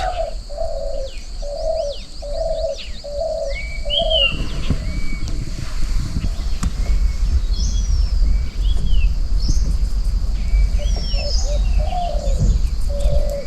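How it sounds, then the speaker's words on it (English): Birds calling in the open at Tadoba National Park, India: a repeated cooing call early on, then assorted chirps and whistles over a low outdoor rumble. "While we're waiting, you can hear all the bird calls."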